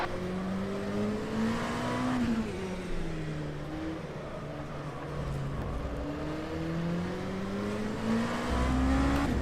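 Speedymite LMP2 prototype race car in rFactor 2 at Silverstone in pouring rain, its engine droning steadily with rising and falling pitch through gear changes, loud and continuous over a hiss of rain and spray.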